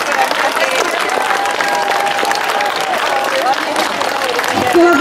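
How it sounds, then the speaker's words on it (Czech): A large crowd applauds kitchen staff at a closing ceremony, loud sustained clapping mixed with crowd murmur and some cheering, with voices heard underneath. "Děkujeme, velký potlesk."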